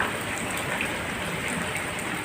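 Steady rain falls outdoors, a dense, even hiss of drops on surfaces that stays constant and moderately loud throughout, with no voices.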